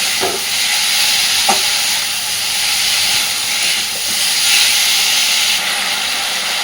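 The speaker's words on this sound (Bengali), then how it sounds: "মোটামুটি তিন চার মিনিট সুন্দরভাবে সব কিছুর সাথে মশলা কষাবে" Spices sizzle and hiss steadily in a hot pan with taro and potato for a curry, loud and close, with a few sharp clinks and scrapes of a spatula stirring the mixture.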